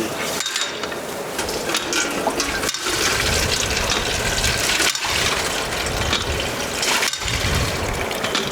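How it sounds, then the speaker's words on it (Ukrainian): Hand-operated public water pump in Dnipro worked over and over, with rhythmic creaking strokes about every two seconds and running, splashing water filling a container. The sound stays loud and close throughout, with no talking. "Смотрите, сколько я буду качати, щоб накачати води."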